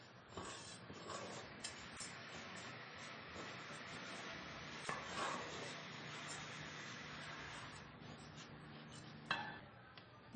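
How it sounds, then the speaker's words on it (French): Rice grains being stirred in hot fat in a pan, toasting until translucent for a risotto: a steady, soft sizzling hiss with scattered scraping clicks from the spoon, fairly quiet and close, with no voices. "Donc on remue jusqu'à ce qu'il devienne translucide."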